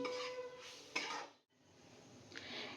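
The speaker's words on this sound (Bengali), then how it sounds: "খুব ভালো করে সব কিছু নেড়ে নিচ্ছি" A spoon scrapes and clinks against a bowl while onion paratha batter with turmeric and asafoetida is mixed, with a few soft strokes and a brief pause partway through.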